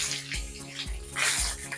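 Water splashes and gushes while glass panes are scrubbed clean with a brush, in uneven close bursts with rhythmic low thuds beneath.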